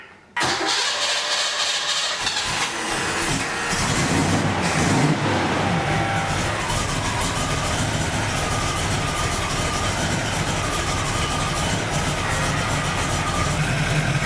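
A 1969 Camaro engine fitted with a new fuel regulator cranks and fires up, then settles into a loud, steady idle that runs continuously and close by with no talking.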